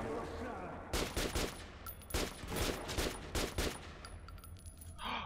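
Several bursts of Metro 2033 Redux gunfire crackle in quick clusters, sharp and fairly loud, with short pauses between volleys.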